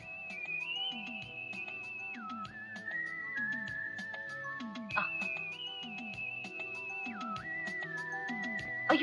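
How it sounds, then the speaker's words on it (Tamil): A man's whistling carries a sustained, sliding melody in a comedic film scene, over a busy musical backing with rhythmic low accompaniment, continuous and fairly prominent throughout. "ஒரு ஐயா மேல இருந்து வந்து விசில் அடிச்சாரு"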